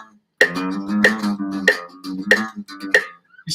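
Electric guitar notes struck mid-slide so they sound wrong, giving five sharp, buzzy attacks at a steady rhythm, each with a short sliding tail.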